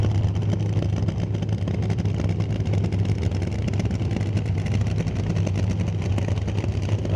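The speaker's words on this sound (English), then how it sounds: "How do you like the sound of that nitromethane?" A nitromethane-fuelled drag racing car at a raceway produces a steady, dense engine roar heard from a distance, continuous and unbroken throughout with no talk over it.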